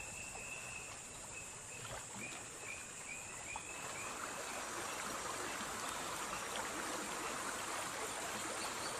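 River water flows steadily in the Amazon, a continuous broadband rush that stays even throughout, with faint bird calls rising above it early on.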